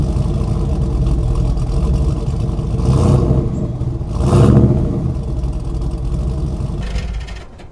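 A cartoon car carrying skis on its roof drives off on a winter outing, with a steady engine drone that swells into two revving surges, loud and close, and a brief bright whoosh at the end.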